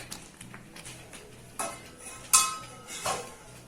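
A metal pot of Kerala erissery for an Onam sadhya is lifted off the stove and set onto another burner, with a few sharp, close metallic clanks and clinks spaced apart and no talking.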